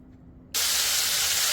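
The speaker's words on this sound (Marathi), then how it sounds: "अशा पद्धतीनं आपण सर्व मशरूम तळून घेऊयात" Mushrooms for a crispy mushroom fry are dropped into hot oil, and a loud, steady deep-frying sizzle bursts in suddenly after a brief quiet moment, close to the pan.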